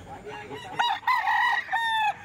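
A young stag rooster crows loudly and close by at a busy Baliwag poultry market, two drawn-out cock-a-doodle-doo calls rising over faint background chatter and clucking.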